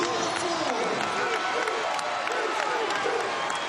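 A basketball arena crowd roars at a 2007 college game between VCU and ODU, a steady, dense wall of cheering with a broadcaster talking over it.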